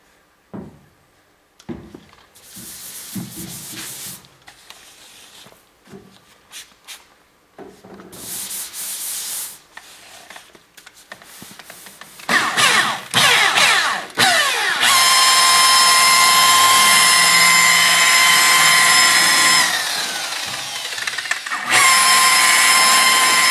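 Power buffer polishing the body of a wrecked Ram truck, starting with scattered handling knocks and short bursts, then a loud, sustained high whine that runs steadily for several seconds, dips briefly, and resumes.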